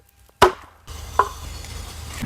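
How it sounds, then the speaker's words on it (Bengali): A knife chops through chicken pieces for handi chicken, one sharp hit followed by a softer second hit over a low background hum, with no talking. "মুরগিগুলোকে কেটে নেব"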